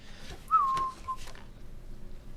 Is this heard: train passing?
no